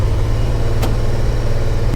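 Dodge truck engine with a worn, unhappy motor running rough, a loud, close, uneven low rumble throughout with one brief sharp click partway through.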